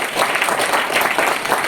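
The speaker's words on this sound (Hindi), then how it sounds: "जगत सिंह राठौड़ के लिए जोरदार तालियां होनी चाहिए।" Loud, dense applause from a crowd clapping for Jagat Singh Rathore at a gathering, a steady continuous wash of hand claps with no break.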